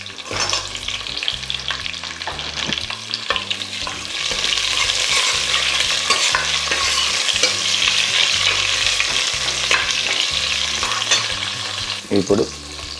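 Onion frying in a tempering for a mixed vegetable stew, with a steady close sizzle and frequent stirring scrapes against the pan over a low rhythmic background beat, and no talk.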